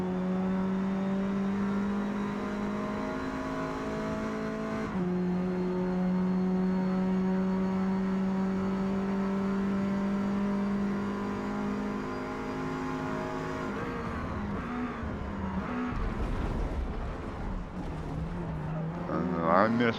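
Alpine A110 race car engine in Forza Motorsport at Virginia Raceway, a sustained droning whine climbing through gears with a shift around five seconds, then lifting off and braking, with a voice talking over it.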